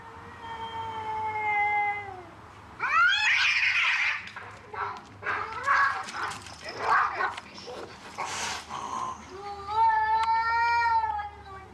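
Male cats caterwaul in a territorial standoff, trading long wavering yowls and harsh screeching bursts that rise and fall across several seconds, fairly close and with no talk.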